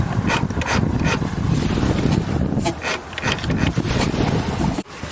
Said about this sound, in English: Now we are turning the engine over.